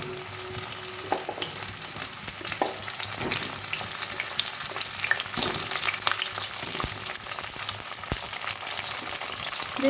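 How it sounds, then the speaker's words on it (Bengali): Pointed gourd frying in hot mustard oil in a wok, a continuous crackling sizzle with scattered pops and occasional stirring knocks, close and steady throughout, with no voices. "প্রথমে আমি পটলগুলো ভেজে নেব"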